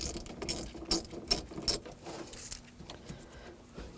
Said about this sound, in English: Loosen up the nut.